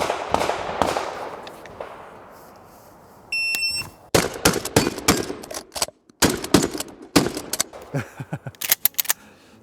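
Pump-action shotgun fired rapidly with cheap buckshot at a group of metal targets: a string of sharp, loud blasts in quick succession after a quieter lead-in, with a short electronic beep tone partway through.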